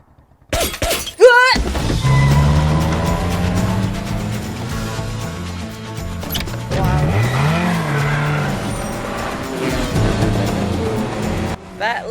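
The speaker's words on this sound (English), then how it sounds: "That little car's got power." A small car races through a movie chase, its engine revving hard amid tyre squeals and a sharp crash or shatter at the start, loud and busy with shifting pitch throughout.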